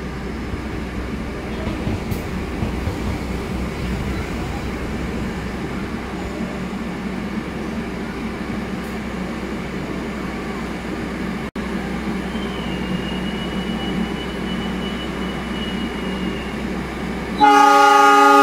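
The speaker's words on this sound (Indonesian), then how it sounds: "Argo Cirebon berangkat." The Argo Cirebon passenger train pulls out of a busy Jakarta station at night, a loud continuous low engine rumble and rolling drone with a bright horn-like burst near the end.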